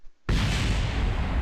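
An explosion in the Kerbal Space Program video game bursts in suddenly after a brief quiet, a loud, broad roaring blast that holds steady and dense, rumbling without fading, with no voices over it.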